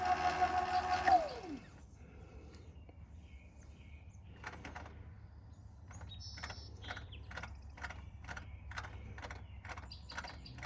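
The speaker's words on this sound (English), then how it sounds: "that rear wheel needs to calibrate now. So it's going to be moving." A Surron electric bike on a stand turns its rear wheel during motor calibration, a falling electronic whine at the start, then quiet, then a run of faint rhythmic mechanical clicks and whirs, close and fairly soft with no speech.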